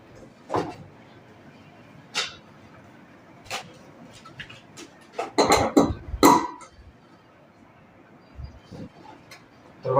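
Sharp metallic clanks and knocks of an all-steel pressure cooker with plastic handles being handled, scattered irregularly with a busy cluster of rattling in the middle, close by.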